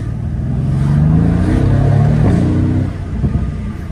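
A car engine, called the beast, revs loudly and close by, its deep rumbling harmonics climbing and falling over a few seconds before easing to a lower idle.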